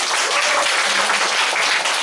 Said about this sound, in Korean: 이거 진짜 오랜만에 좀 박수 한번 해야 돼,